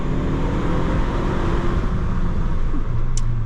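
A 2014 Ford Focus ST Turnier with 250 hp and its factory exhaust, a loud, steady engine drone with road and traffic noise around it, holding an even level with a brief higher tone near the end.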